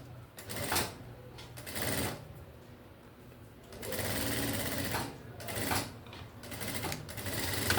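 A sewing machine stitches fabric in bursts, fast rhythmic whirring runs of a few seconds each, separated by short pauses and soft handling clicks, close and moderately quiet.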